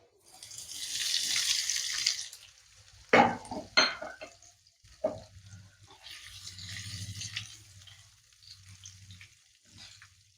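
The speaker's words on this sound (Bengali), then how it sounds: "এরপর আমি পনিরগুলো ভেজে নেব।" Paneer cubes frying in a pan give a steady sizzling hiss in two bursts, broken in the middle by sharp clinks and scrapes of a utensil against the pan; no one speaks.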